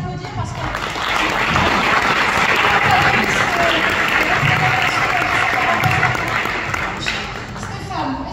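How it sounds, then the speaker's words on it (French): Sustained audience applause at a diaspora gathering in Paris with the DRC ambassador present, dense clapping from a sizeable crowd swelling and holding for several seconds, with voices and cheers mixed underneath. "Je vous demande vraiment de les applaudir"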